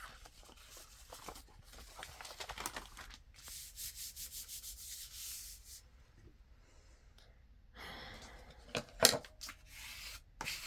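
Paper being trimmed along a folded edge for handmade envelope-style journaling paper, heard as soft rubbing and scraping cuts in a quiet room, with a sharper snip near the end.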